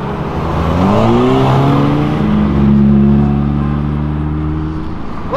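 Cars passing and revving, including a supercharged Ford Mustang, close by and loud: rising engine roars with sweeping harmonic tones as vehicles accelerate past, sustained throughout with no talk.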